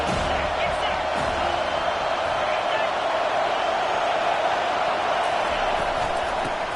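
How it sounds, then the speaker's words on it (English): A college football stadium crowd for Colorado at Florida State roars on third down, a loud, unbroken wash of cheering and noise filling the whole stretch. "Third down, and this crowd is tearing the lid off this place."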